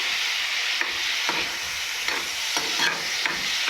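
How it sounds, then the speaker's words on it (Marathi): Masala for misal roasts in a pan, a steady sizzle and hiss broken by regular scraping stirs every second or so, close and alone. "चांगला मसाला असा भाजून घ्यायचा."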